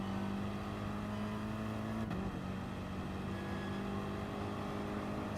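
Race car engine revving hard under acceleration in a racing video game at the Interlagos circuit, a steady loud drone with a held pitch that briefly drops and shifts mid-way, with no talking over it.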